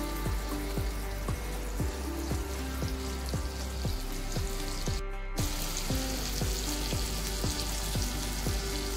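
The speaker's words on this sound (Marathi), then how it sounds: "आणि मग तेलात सोडायचा." Masala-coated pomfret (halwa) fish fries in oil with a soft, continuous sizzle and crackle, fairly faint and steady, briefly dropping out midway.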